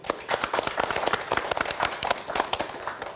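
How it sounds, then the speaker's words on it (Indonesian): Studio audience at a political talk show applauds with dense, steady clapping at moderate level, a brief burst of many hands without voices. "Tepuk tangan dong buat kalian dong."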